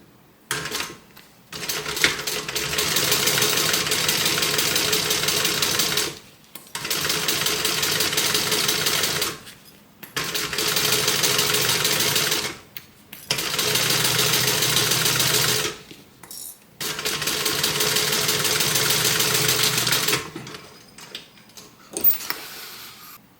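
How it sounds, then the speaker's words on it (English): Domestic sewing machine top stitching folds of fabric, running in five steady buzzing bursts of several seconds each, separated by short pauses, close and with no talk. "I'm going to take this over to my domestic machine and I'm going to stitch, top stitch each fold here."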